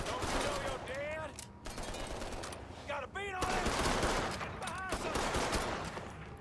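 A sniper rifle gunshot in the Mafia 3 video game rings out amid loud, busy game sound, with sharp bursts of gunfire and other effects layered throughout.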